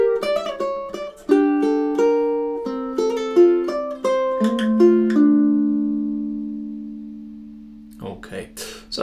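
A quick run of bright ukulele notes played as sixteenth-note triplet hammer-ons and pull-offs, fluid and slurred, ending on a long ringing note that fades before a voice begins speaking.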